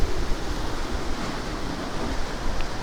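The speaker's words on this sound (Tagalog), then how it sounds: "Malakas ang hangin." Strong typhoon wind roars steadily and buffets the microphone with a constant rushing noise, with no voices.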